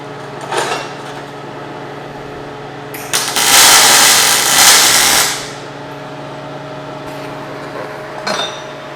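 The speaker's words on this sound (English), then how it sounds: "You press the trigger, it welds." A Yeswelder Firstess DP200 MIG welder lays tack welds: two brief crackling bursts, then a steady hissing arc lasting about two seconds, then another short burst. The welding is close, with a low machine hum between the bursts.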